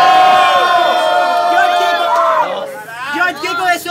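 A crowd at the Batalha da Fonte freestyle rap battle in Foz do Iguaçu, Paraná, erupts in loud, sustained cheering, whooping and shouting. It starts at full volume, dips briefly, then swells again with a voice shouting over it.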